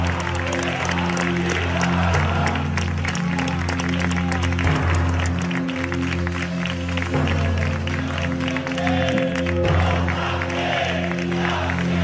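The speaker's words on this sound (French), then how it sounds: "Applaudis par la foule" A crowd at a Basque separatist (ETA) gathering applauds two men steadily for the whole stretch, a dense continuous patter of clapping over a low, steady droning hum.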